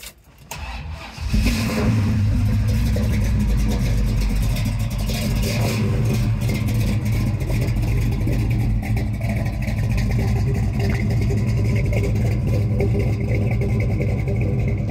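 A 1969 Chevrolet Chevelle with a 454 big-block V8 of about 550 hp cranks briefly and catches, then settles into a loud, deep, rumbling idle with light revs, heard close up.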